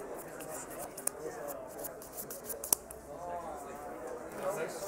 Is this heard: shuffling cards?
yes